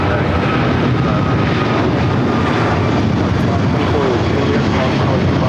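Loud, steady broadband roar of an American Airlines Boeing 777-200ER jet on its takeoff run at LAX, continuous and dense throughout without a break.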